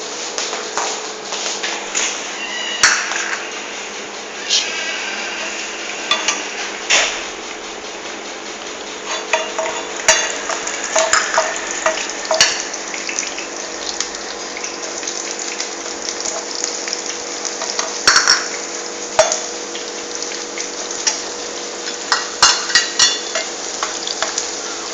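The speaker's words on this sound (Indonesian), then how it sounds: "sekarang kita masukkan bumbunya, bawang putih sama bawang merah" Garlic and shallots frying in a pan, a steady sizzle with bursts of crackle and stirring scrapes running throughout, loud and close, with no talk.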